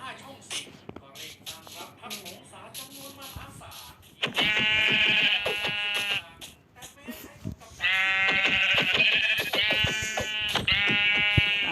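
Sheep in the Minecraft video game give loud, nasal, wavering bleats in repeated bursts, with a person talking excitedly between and over the calls.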